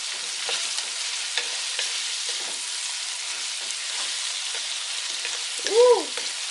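Dungeness crab stir-frying in oil in a pan with stock cubes and teriyaki sauce, a steady close sizzle with scattered scraping stirs throughout and one brief tonal clink near the end; no talking.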